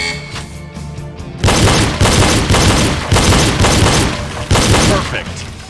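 Pistol gunshots in the video game Reload during a double tap drill: several loud, sharp pairs of shots ring out close up at regular intervals after a quieter opening, with no talk.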